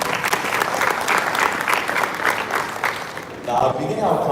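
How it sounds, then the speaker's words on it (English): An audience at a speech contest final applauds, dense sustained clapping from a sizable crowd that dips briefly then swells again, with a voice over it. "Let's give him a round of applause."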